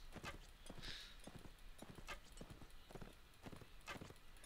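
Horse hooves galloping in the medieval combat game Mount & Blade Warband, a rapid steady clip-clop up close over a constant battlefield background.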